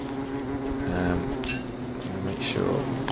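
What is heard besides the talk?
bees buzzing in the video game Don't Starve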